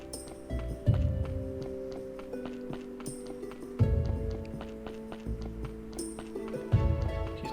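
A donkey's hooves clip-clop in Graveyard Keeper, bursts of hollow stepping repeating every few seconds under a layered game music loop, with no one talking.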